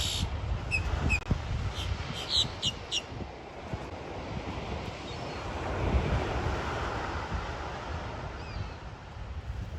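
Ocean surf rolls onto a Florida beach in a steady, washing roar, mixed with buffeting wind noise on the microphone and a few faint higher chirps early on.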